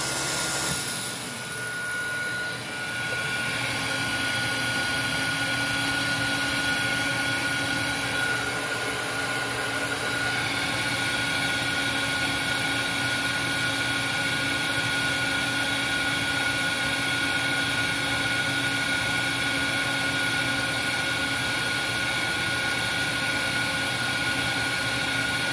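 Dyson DC22 vacuum cleaner motor switching on and spinning up, then running as a steady, loud whine with a constant airflow roar and no talk.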